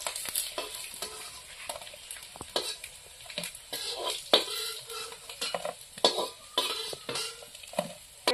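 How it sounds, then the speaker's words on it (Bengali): Potatoes frying in a pan while being stirred, with repeated scraping and clinking of the utensil over a continuous hiss of hot oil, close and fairly loud. "আর আলুটা ভাজা হয়ে গেছে"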